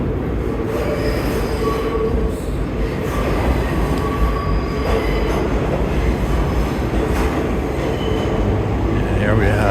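An older, narrow IRT-division New York subway 3 train from the 1980s rolls through Times Square station at midnight, with a loud continuous rumble and screeching wheel squeal throughout.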